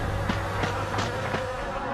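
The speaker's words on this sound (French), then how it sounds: "Regardez, nous sommes envahis par les sauterelles!" Cartoon swarm of locusts invading, a steady continuous insect buzz with faint wingbeat flutters throughout, alone with no talk.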